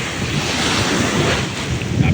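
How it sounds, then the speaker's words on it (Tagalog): Strong sea waves at a beach in Botolan, Zambales, a steady loud roar of surf mixed with heavy wind noise on the microphone, close and unbroken. "medyo malakas nga yung halo ng dagat,"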